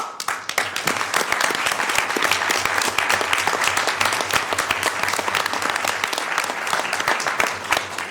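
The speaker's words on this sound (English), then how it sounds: "give them a big round of applause" Loud, dense applause fills a city council chamber as honorees are called up, sustained clapping from a large crowd heard close and continuous.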